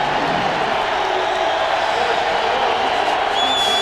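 Football crowd behind the end zone at a Buccaneers–Raiders game in Oakland, a dense, steady roar of distant fans with faint cheering, continuous and loud without breaks.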